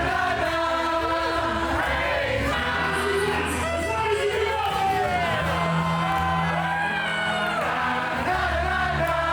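A large concert crowd sings a cappella with other musicians on stage, a loud, dense wash of many voices with whoops and shouts rising above the singing throughout.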